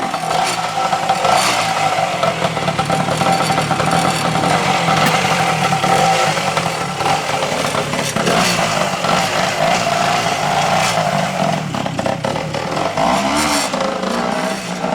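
A Yankee 500 two-stroke twin-cylinder motorcycle engine runs loudly and close, a steady buzzing drone that holds throughout with slight shifts in pitch and no speech over it.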